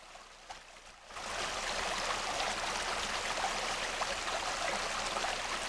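A mountain stream in Prince William Sound, Alaska, rushes in a steady, full broadband wash that swells in after a quieter first second, then holds loud and even with no voices.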